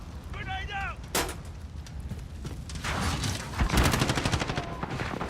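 A grenade goes off in a video game battle: one heavy, booming blast rolls out over scattered rapid gunfire and mechanical clatter. A brief voice is heard near the start.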